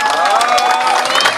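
An audience at a wedding bursts into lively applause and cheering for a dance club, with dense clapping and shouts filling the whole moment.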